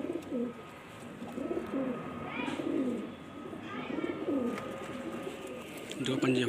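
Several low, rolling pigeon coos repeat at a steady interval from birds kept at a breeder's loft, moderately close, over a faint background hum.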